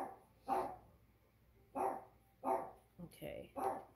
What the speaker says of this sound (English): As my dog barks like crazy.